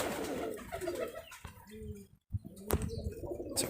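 Giribaj high-flyer pigeons, a local Rajshahi breed, give soft, close cooing calls in short bursts, with faint rustling and a brief quiet gap partway through.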